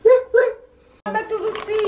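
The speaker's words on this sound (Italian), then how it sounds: "Un cane dalmata." Dalmatian dog gives two short barks, then a brief pause before a voice talks over further whimpery yips close by.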